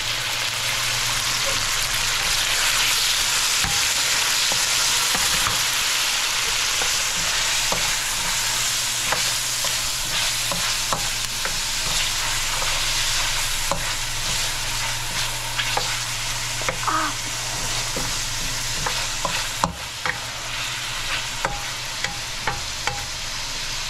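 Bean sprouts (togue) stir-fried in a pan give a steady, loud broadband sizzle with scattered scraping clicks of a spatula stirring throughout, no talking.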